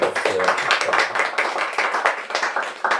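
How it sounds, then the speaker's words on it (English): Audience applause at a literary reading event, a room of people clapping steadily with distinct close hand claps, continuous and without speech. "Let's give them a round of applause now."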